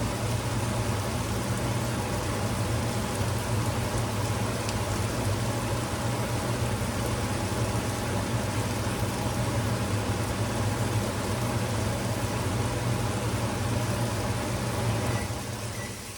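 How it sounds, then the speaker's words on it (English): Steady electric fan running in a home kitchen while stew cooks, a constant even whir with a low hum held at the same loudness throughout, close and alone with no talk. "Sorry, I had to have the fan on."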